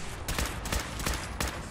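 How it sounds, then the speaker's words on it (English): Gunfire in the video game Fallout 4 comes as a rapid string of sharp, loud shots, about five or six in under two seconds, close and uneven in spacing, with no talking. "It's really not the world's best gun."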